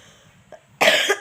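A single burst of coughing from a woman indoors, close and loud, with a faint soft sound just before it.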